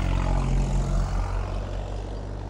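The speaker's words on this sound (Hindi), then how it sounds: "कितना आवाज़ है ट्रैक्टर का" A tractor engine runs close by with a loud, steady, low drone and a continuous throbbing hum that eases slightly toward the end.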